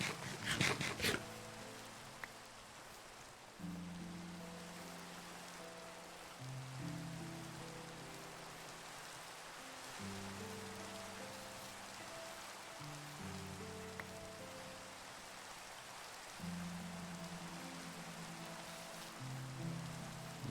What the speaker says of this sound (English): Oh my god, no, it's raining.